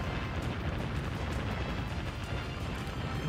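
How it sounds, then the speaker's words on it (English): A torpedo strikes a warship in Warship Gunner 2, giving a continuous, moderately loud explosive roar with low rumble and crackling debris throughout, without voices. "Okay, they are using torpedoes. That's what it sounded like hit me anyways."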